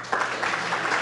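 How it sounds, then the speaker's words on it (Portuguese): Applause from an audience at an agricultural event broadcast, a steady wash of many hands clapping that swells slightly partway through, fairly loud and continuous with no voices. "Recebemos aplausos."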